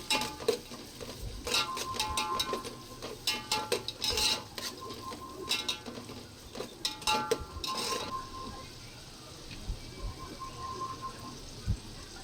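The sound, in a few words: sautéing ginger garlic in pan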